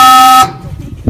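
A train whistle fitted to a ride-on Thomas toy train sounds one loud, steady tonal blast that cuts off abruptly, leaving low outdoor rumble and a soft thump in the snowy yard.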